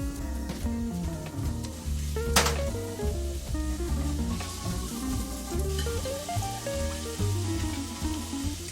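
Meat dropped into a pan with garlic and onions for chiles en nogada sizzles and crackles steadily alongside background music, with a brief sharp clatter partway through.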